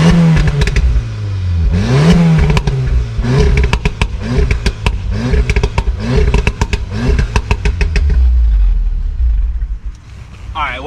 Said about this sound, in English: it took a little bit for it to backfire, but as you guys saw, it does backfire